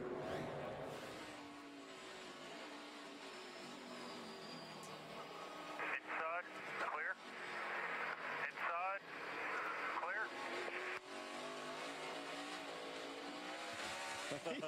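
A NASCAR stock car at a race in Montreal, its engine heard faintly from a distance during a crash replay, rising and falling with throttle and tire noise, mostly under steady commentary.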